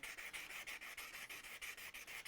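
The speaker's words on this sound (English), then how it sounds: "just burnishing the side of the tip, which helps to stop it collapsing" The side of a tip is burnished against a smooth surface in steady, rapid rubbing strokes, each a soft, even scrape, quiet and close with no voices.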